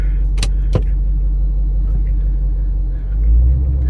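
A 750+ horsepower 2011 Shelby GT500 Convertible rumbles at a close, steady idle, with two sharp clicks near the start and a low swell toward the end.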